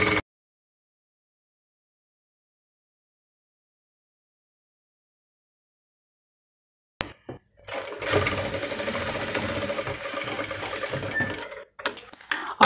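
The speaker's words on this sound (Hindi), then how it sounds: "और बिल्कुल किनारे किनारे सिलाई इसके लगाते हुए चलेंगे।" Sewing machine stitching a fall along the edge of a sari, a steady continuous mechanical whir running for several seconds after a long silence, close and fairly loud, stopping briefly near the end.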